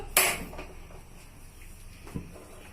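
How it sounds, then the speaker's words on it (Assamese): A sharp metallic clank as a heavy wok is set on a stove, followed by a quieter knock a couple of seconds later. "এতিয়া মই কেৰাহী পাতিছো"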